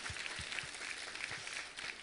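Church congregation applauding at a service, a faint, steady wash of many hands clapping at a distance, with soft thumps in the background.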